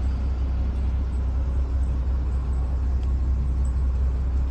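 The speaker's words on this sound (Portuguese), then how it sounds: "Olha o funcionamento do carro pelo escapamento." A 1999 Volkswagen Gol Special with a 1.0 gasoline engine idles at the exhaust pipe, a steady close, loud low rumble that holds even throughout with no speech.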